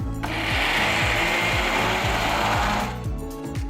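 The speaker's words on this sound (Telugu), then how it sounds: "ఇప్పుడు కొన్ని నీళ్లు పోసి మెత్తటి పేస్ట్ అయ్యేట్టు రుబ్బాలి" Onions and water whir in a kitchen mixer grinder, the motor roaring steadily for most of the clip over background music before it stops.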